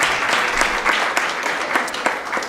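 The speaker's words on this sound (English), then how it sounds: "Let's give them a round of applause." Loud, close applause from the audience at a Waco ISD school board special meeting, a dense continuous patter of many hands with no talking over it.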